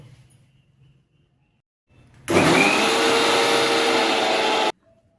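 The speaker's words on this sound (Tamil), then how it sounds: "இதை தண்ணி ஊற்றாமல் நல்லா ஃபைன் பேஸ்ட்டாக அரைச்சிட்டு வந்துடலாம்" A mixer grinder whirs loudly for a couple of seconds, grinding tomatoes into paste without water, starting abruptly and cutting off sharply, with quiet background before and after.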